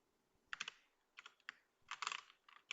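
Computer keyboard typing while writing Go code, a few short bursts of clicking keystrokes close up and fairly quiet, separated by brief pauses, with no talking.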